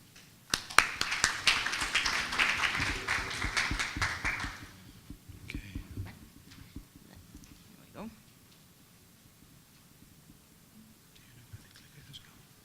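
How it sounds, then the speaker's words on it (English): Applause from a conference audience welcoming the keynote speaker, a dense burst of many hands clapping for about four seconds that then fades into room noise and scattered taps. "a round of applause for our keynote speaker"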